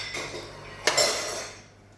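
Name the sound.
scooping food onto a plate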